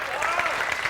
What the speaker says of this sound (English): Let's have a nice round of applause for Carl Drew